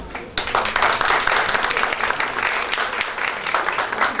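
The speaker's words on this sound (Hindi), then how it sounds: "एक बार तालियां जरा जोरदार तरीके से" An audience at a talk applauds to welcome an orthopaedic doctor, a loud sustained burst of dense clapping that starts abruptly and carries on evenly throughout.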